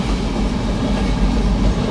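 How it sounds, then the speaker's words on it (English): A freight train rumbles past close by in Sidney, Nebraska, during a supercell storm, a heavy continuous roar with rhythmic clatter of wheels on the rails. "hear the freight train, hear the roar."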